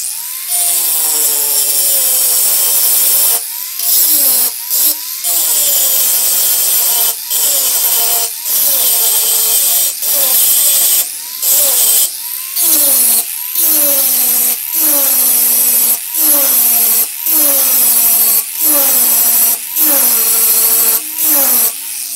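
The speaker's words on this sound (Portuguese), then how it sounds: "eu vou jogar a esmilhadeira deitada assim, vou fazer o chanfro mais ou menos com uns 3 milímetros" An angle grinder held flat chamfers the edge of a wooden piece in a workshop, a loud continuous whining grind whose pitch sags and recovers in repeated passes, with brief pauses between strokes.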